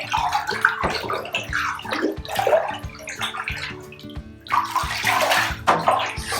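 Cold water sloshes and swirls in a filled bathtub, with repeated splashy strokes and low knocks as cloth diapers are stirred around with a spoon, close and steady.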